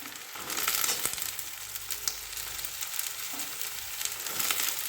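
Onions frying in a pan for spicy semolina upma give a steady, close sizzle that holds throughout with a light crackle over it, and no one speaks.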